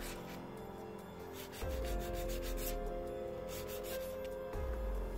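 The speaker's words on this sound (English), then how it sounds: "Not a lot of filing to do at all." Acrylic nails being filed smooth with a nail file after capping, a soft steady rubbing rasp running throughout at close range with no talking.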